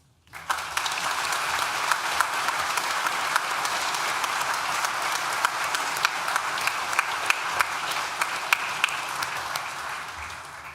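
A large audience at a university graduation ceremony breaks into sustained, even applause that swells quickly and holds steady for about ten seconds.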